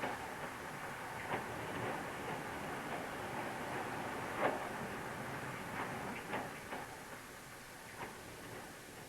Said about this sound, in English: A clay train down from Torrington along the Tor, the only remnant of line beyond Barnstaple.